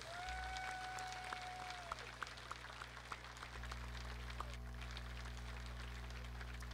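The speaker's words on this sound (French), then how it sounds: "Mesdames et messieurs, une bonne main d'applaudissements pour le nouveau membre du Mémorial de la terre battue" Sparse, faint clapping from an audience honoring a new inductee into the Mémorial de la terre battue, a dirt-track racing hall of fame. The scattered individual claps sit over a steady electrical hum and sustained tones.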